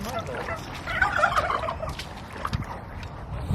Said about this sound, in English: Zena, can you believe he's actually gobbling